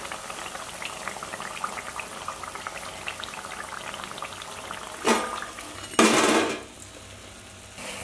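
Yam vada (senai kizhangu vadai) deep frying in hot oil, a steady low bubbling hiss throughout, with louder clattering bursts of a utensil against the pan near the end.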